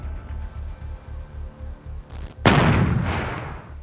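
A single heavy World War II German artillery gun firing, one sharp loud blast with a rumbling tail after a low rhythmic mechanical hum.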